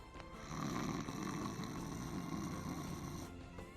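A person imitates snoring with a steady, continuous rasping drone, loud and close, held for several seconds with no other voices.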